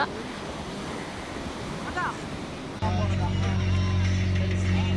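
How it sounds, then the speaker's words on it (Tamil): Sea waves washing onto a beach, a broad steady roar of surf and wind noise, then a sudden shift to a louder rumbling hum partway through, with a few faint voices in the distance. "அலை கம்மியாக தான் அடிச்சுது"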